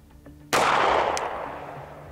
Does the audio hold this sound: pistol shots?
yes